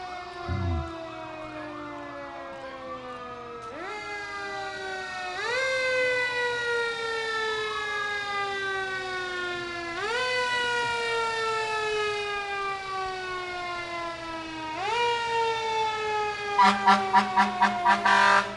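Fire truck sirens wailing during the Joliet Easter Parade in Illinois, with several overlapping rising and falling tones, loud and close, and a burst of rapid horn blasts at the end.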